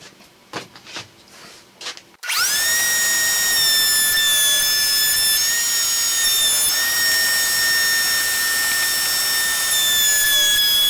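A saw spins up abruptly and runs loud and steady with a sustained whine, cutting pieces of wood on a shop-built 360 crosscut sled, after a couple of seconds of quieter shop noise.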